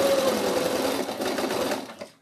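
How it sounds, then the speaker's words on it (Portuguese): Sewing machine stitching fabric for a handmade snowman doll, a steady, loud mechanical whir with rapid needle rhythm running continuously before stopping abruptly at the end. "Vamos costurar aqui."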